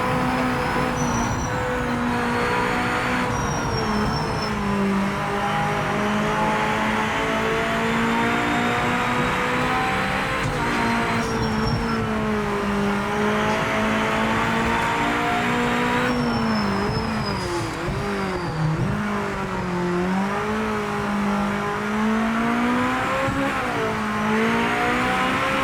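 A race car engine held at high revs in seventh gear in Project Motor Racing, a loud, steady sustained drone with slowly wavering pitch and brief shifts, running continuously with no talk.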